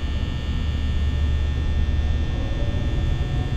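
Steady low electric hum of an office desk fan in the horror game Five Nights at Freddy's, a constant droning whir with no breaks, fairly loud and alone.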